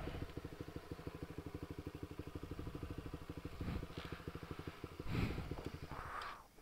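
A motorcycle engine idles nearby with a fast, steady, even putter, then revs briefly a couple of times near the end.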